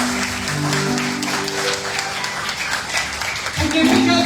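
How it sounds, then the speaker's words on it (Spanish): Church congregation applauds, steady crowd clapping that carries under a sustained musical tone and a speaking voice, fading briefly before a louder swell at the end. "está dándole un aplauso al Rey del Rey"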